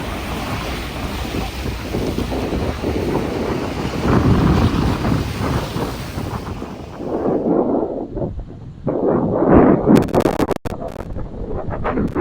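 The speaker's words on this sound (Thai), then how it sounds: "มาที่ทะเล" Wind and waves at the seashore: steady broadband wind rumble buffeting the microphone with rolling surf, easing slightly midway, then returning with splashing water and a brief sharp knock near the end.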